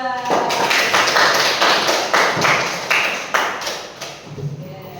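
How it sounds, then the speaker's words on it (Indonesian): Classroom students clapping for a group in a coding lesson, a short burst of fairly close, rhythmic applause, with a voice briefly near the end. "tepuk tangan untuk kelompok 2"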